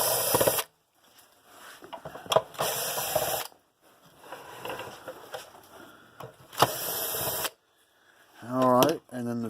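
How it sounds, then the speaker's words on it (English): A power drill backing out the corner screws of a PEL PE85 electric fence charger, with several short whirring bursts separated by pauses and a final rising ratcheting whine, heard close up. "4 screws in the corner. I'm going to use the drill. It's going to go faster."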